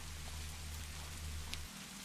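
Steady rain falls as a continuous soft hiss with a low rumble beneath it, unbroken and even throughout, with no voices.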